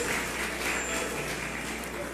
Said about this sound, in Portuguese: aplaudindo a Jesus, porque Ele é bom, porque Ele é maravilhoso